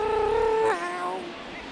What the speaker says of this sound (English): That's the sound of my cat.